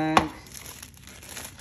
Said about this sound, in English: Now I'm gonna put this in the plastic bag.